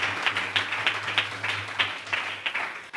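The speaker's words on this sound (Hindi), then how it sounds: "परमेश्वर एक बार जोरदार ताली बजाते हैं" A congregation claps together in a fairly steady, moderately loud rhythm of bursts, sustained for a few seconds with a low hum underneath and no talking.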